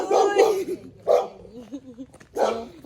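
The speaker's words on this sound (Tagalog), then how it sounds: "Pero tumatahol." A dog barks close by in a few short bursts, with whining between them.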